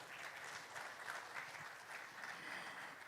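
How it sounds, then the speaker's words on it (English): A room full of guests at the opening of an international tropical seaweed research centre applauds steadily, a dense, even wash of clapping lasting the whole stretch with no voices over it. "please give applause, ladies and gentlemen."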